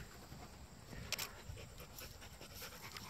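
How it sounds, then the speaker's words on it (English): An old dog pants outdoors beside a time-lapse camera setup, a soft steady breathing that stays faint against background noise. "there he is, my trusty dog Zeus"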